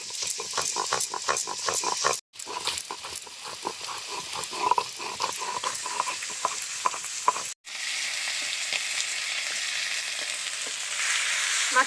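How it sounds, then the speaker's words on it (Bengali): Fish heads fry in hot oil, giving a busy crackling sizzle with rapid spitting pops and a few short breaks, then a smoother steady hiss near the end; close and fairly loud, with no talking. "ওদিকে মাছের মাথাগুলো ভাজা হচ্ছে"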